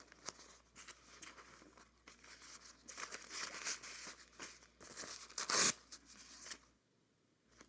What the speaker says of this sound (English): just grab a couple paper towels